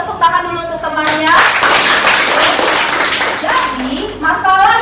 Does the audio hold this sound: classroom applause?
yes